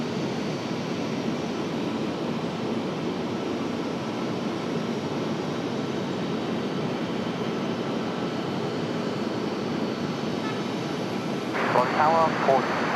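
An airliner arriving from Frankfurt after a nine-hour flight at Raleigh-Durham: a broad, steady jet-engine roar filling the air at moderate distance, with a brief voice near the end.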